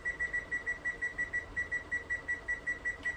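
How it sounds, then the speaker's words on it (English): A kitchen timer beeps in a fast, steady electronic pulse, about four to five beeps a second, quiet and continuous against a faint background, while spaghetti sauce is being canned. "So now I'm just going to set my timer"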